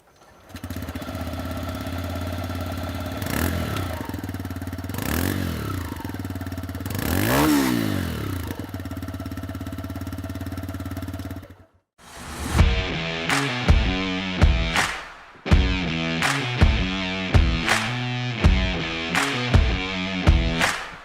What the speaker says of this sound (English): we're going to make you listen to the exhaust note of this bike